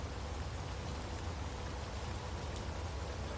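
Rain falling in the Space Engineers video game during a late evening, a steady even hiss of dense raindrops with no breaks, alone and fairly quiet throughout.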